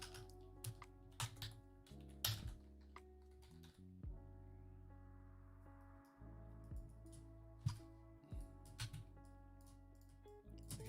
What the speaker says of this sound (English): Can I type your name?